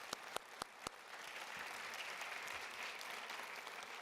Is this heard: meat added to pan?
no